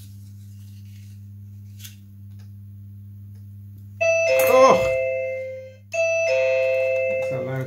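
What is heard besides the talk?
loud doorbell ringing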